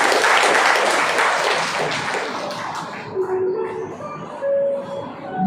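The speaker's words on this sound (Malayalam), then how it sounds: "ഓരോന്ന് കൈയടിച്ച് പ്രോത്സാഹിപ്പിക്കാം." An audience claps at an 88th anniversary celebration in Nilambur. The loud, dense applause gradually fades and gives way to a single voice speaking over a quieter hall.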